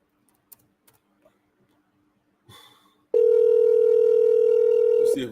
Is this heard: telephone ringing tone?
yes